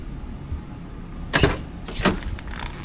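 The door of a 1975 Pontiac Grandville is shut, a sharp clunk followed by a second softer latch thump about half a second later, close by against quiet background.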